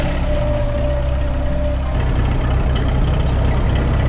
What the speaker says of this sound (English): We've fueled up the tractors and there goes the Farmall H.